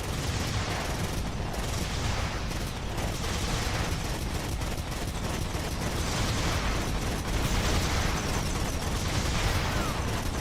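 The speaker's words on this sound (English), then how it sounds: "I figured this is where I start using the turrets." Turret gunfire roars without pause in Earth Defense Force: Iron Rain, a dense, loud, continuous barrage of shots and blasts with no speech over it.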